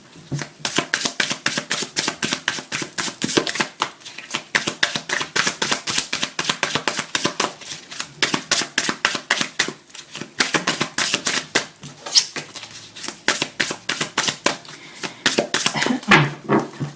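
Oracle cards are shuffled by hand in a steady run of crisp, rapid riffling flutters that continue for the whole stretch with only brief pauses, close and fairly loud, with no talking.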